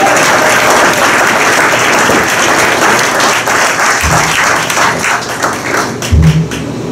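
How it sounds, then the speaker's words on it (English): Loud, sustained applause from a crowd fills the room in a dense, continuous patter, with a couple of dull thumps near the end. "please accept this big round of applause"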